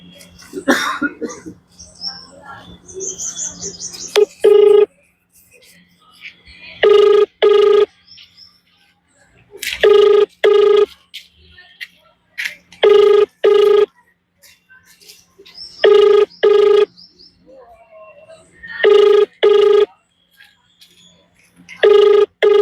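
A telephone ringback tone repeats for an unanswered phone call, loud paired tonal bursts recurring every few seconds with silent gaps, preceded by some coughing and background noise.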